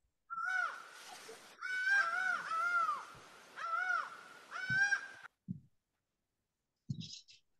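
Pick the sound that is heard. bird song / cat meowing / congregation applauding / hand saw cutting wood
bird song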